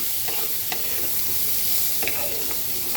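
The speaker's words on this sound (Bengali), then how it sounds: "এই আমি এখন দিয়ে দেব পেঁয়াজ আর কাঁচামরিচ এখন এটাকে খুব সুন্দর করে ভাজতে হবে" Onions and green chillies sizzle steadily in a hot pan, a dense close frying hiss broken by a few light stirring scrapes.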